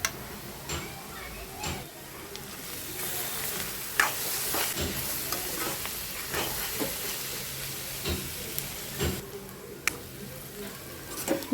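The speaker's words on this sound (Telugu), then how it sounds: "ఉల్లిపాయలు ఫ్రై అవటానికి కొంచెం సాల్ట్ వేస్తున్నానండి" Onions frying in oil with salt added for a Telugu dried prawn curry, a steady soft sizzle with scattered stirring clicks and ticks throughout, and a voice talking over it at times.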